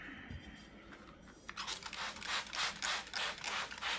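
Sandpaper rubs back and forth over the edge of an eco casting resin piece, about eight rhythmic close scratching strokes after a quieter start, faint and without talk.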